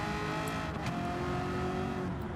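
A race car in Gran Turismo 7, competing in the American Clubman Cup 700 at Watkins Glen, drones with a loud, steady engine tone that holds its pitch through a corner, and faint tire noise sits under it.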